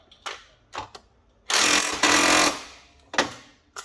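An impact wrench on a Jeep XJ harmonic balancer bolt fires in short rattling bursts, then a sustained hammering run of about a second, then another quick burst, loud and close.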